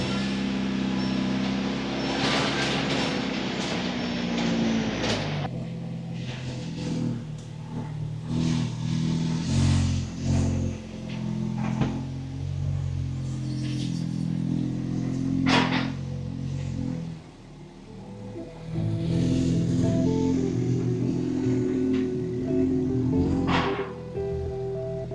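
A VW MK7 GLI fitted with an IE downpipe cranks and starts, then revs in several surges separated by idling stretches, with a brief quiet dip in the middle, all heard close up.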